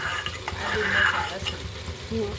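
Ginger-chili paste stirred into simmering gravy in a pan for a chole dish: close scraping stirs over a soft, bubbling sizzle, with no talking.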